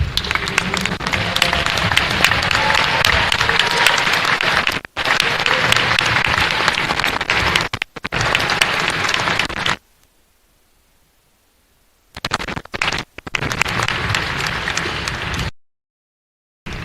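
A banquet audience applauds Hall of Famers at a sports hall of fame ceremony. There are long, dense bursts of clapping, broken by brief pauses and one stretch of near silence before a final round of applause.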